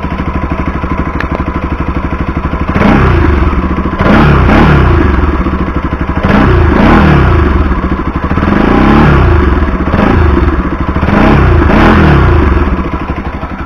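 A 2018 Bajaj RS 200 motorcycle revs repeatedly, with about five sharp throttle blips rising from a steady mid-pitched idle, loud and close, with no talking.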